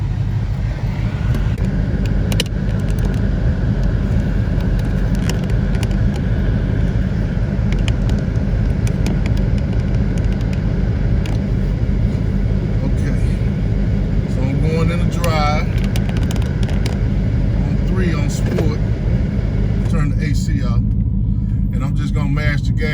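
A car with a sprint booster installed, in sport mode at setting 3, accelerates hard from a stop. A loud, steady engine roar and rumble runs throughout, with someone talking over it.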